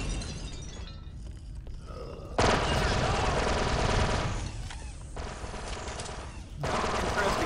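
Trandoshan SMG fire in the Star Wars Republic Commando video game: bursts of rapid automatic gunfire in several loud stretches separated by short lulls, with faint game sounds between.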